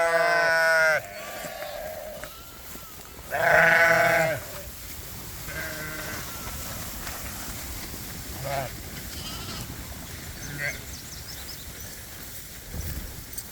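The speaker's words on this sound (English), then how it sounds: "we're going to move these sheep" Sheep bleat loudly at the start and again a few seconds later, with fainter bleats and outdoor rustling in between.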